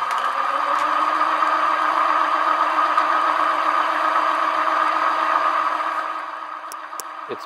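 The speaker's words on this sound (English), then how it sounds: "I'm going to use the stand mixer to do the hard work for me, as we want to disperse the hardener evenly." Stand mixer running steadily as hardener is mixed into paint emulsion, a loud even motor whir with a rhythmic beater churn that winds down near the end, followed by a few faint clicks.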